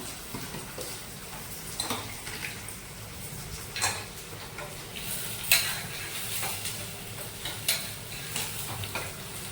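Onion, green chillies and curry leaves fry in oil in a pan, a faint steady sizzle broken by occasional clinks and scrapes of a stirring spoon.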